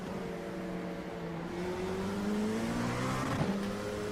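An LMP2 prototype race car in the iRacing simulator at Ringmeister gives a continuous, loud, close engine whine that climbs in pitch under acceleration, with a brief shift-like dip near the end and no talking.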